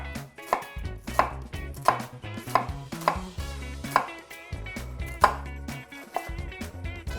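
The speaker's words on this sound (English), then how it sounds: "Just take your onion and score it." A knife scores an onion into small squares on a cutting board, producing close, crisp chopping knocks in a steady rhythm, roughly one every two-thirds of a second.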